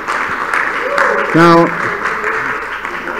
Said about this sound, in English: Another round of applause for our IIT devotees.